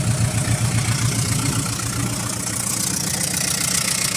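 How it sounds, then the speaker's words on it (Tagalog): A Mitsubishi 4D33 diesel engine runs steadily close by, its noisy exhaust giving a dense low rumble with a rough, knocking texture that stays loud and unbroken throughout. "So papawilding na lang natin tong tambutso, medyo maingay."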